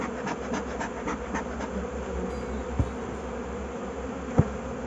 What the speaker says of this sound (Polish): Są pszczoły również.